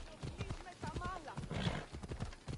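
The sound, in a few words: horse galloping in Assassin's Creed Odyssey video game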